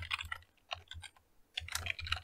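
Quick bursts of keystrokes on a computer keyboard with a brief pause partway through, the clicks crisp and close. No voice is heard over the typing.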